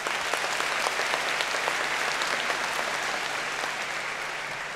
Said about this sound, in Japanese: そんなにたくさんの拍手ありがとうございました。